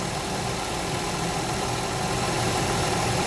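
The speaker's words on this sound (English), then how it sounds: "Motor is steady" A car engine idles steadily after a Blue Devil head gasket sealer treatment, a continuous even drone with no misfire or shaking, close and loud with no talking.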